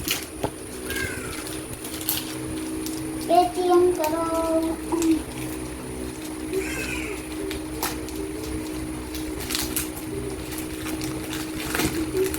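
A young crow chick gives a few short, harmonic squawking calls in bursts, fairly close, over a steady indoor hum.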